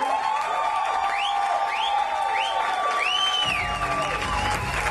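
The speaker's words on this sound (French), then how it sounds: "une dernière main d'applaudissements aux jaunes, mesdames et messieurs." Audience at an improv show final gives scattered applause and some cheering beneath a loud sustained tone with repeated rising whistling sweeps.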